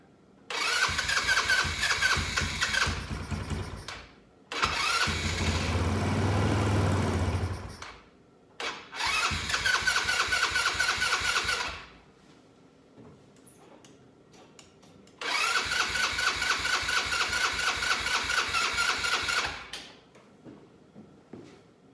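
A cheap Chinese four-wheeler ATV engine cranks and catches in several separate bursts, each a loud, rapid chugging run of a few seconds separated by pauses, close by.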